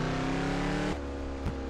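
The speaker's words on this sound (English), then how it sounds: "The car doesn't sound well at all." A rough, droning car engine in Turbo OutRun Reimagined, a PC racing game, with uneven tone, cutting out abruptly partway through, then a brief sputter before continuing lower and weaker.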